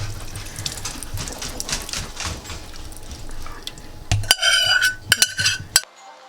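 Hot burnt caramel poured and scraped from a pot into a metal flan baking pan, a run of soft scraping and clinking followed by a few sharper metallic knocks near the end, close and moderately loud.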